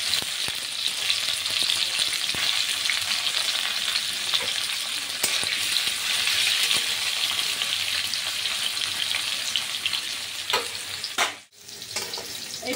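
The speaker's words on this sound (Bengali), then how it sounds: "ভালো করে ভেজে নেব।" Banana stem pieces fry in hot oil with a steady, dense sizzle and crackle throughout, loud and continuous, with a brief dip near the end as the pan is stirred or moved.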